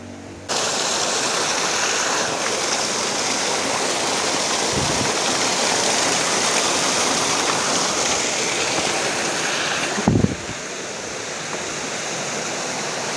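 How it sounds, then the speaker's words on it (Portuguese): A waterfall in Iguape on the Brazilian coast, a continuous full rushing roar of falling water at steady loudness, with a brief knock near the end and no talking. "Vamos ver a cachoeira ali."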